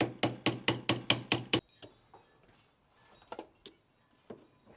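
A wrench works loose the positive terminal on a car battery: a fast run of seven sharp metallic clacks, then a few faint scattered clicks and taps up close with no talking.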